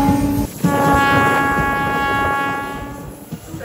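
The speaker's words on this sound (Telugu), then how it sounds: "ఏమన్నా స్పీడ్ లో వస్తుందా గూడ్స్ ట్రైన్?" A goods train passes at Tirupati railway station, a loud, steady rumble with sustained tonal ringing and a sharp onset near the start, holding close and strong throughout.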